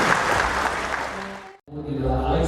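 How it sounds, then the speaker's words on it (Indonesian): Guests at a golden wedding anniversary thanksgiving mass clap together in a short burst of applause, which fades out as a voice begins speaking. "Tepuk tangan dari kita semuanya."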